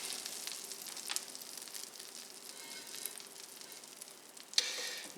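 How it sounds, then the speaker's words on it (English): Baguette slices, cut about a quarter inch thick, sizzle steadily in foaming butter in a pan, a close, even crackle that swells into a louder hiss near the end, with no talking. "now when the foam subsides, I'm going to add the baguette slices."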